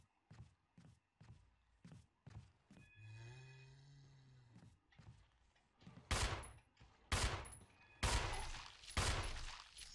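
A weak handgun in Resident Evil HD Remaster fires four sharp, loud shots near the end, after a run of evenly spaced footsteps and a short rising mechanical tone.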